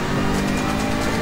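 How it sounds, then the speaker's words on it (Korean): A Jaguar F-Type race car engine in the video game Gran Turismo on PS4 drones at high revs under steady throttle, a loud continuous buzzing roar with no pause. "잘 들으시면 제가 페달 밟는 소리입니다."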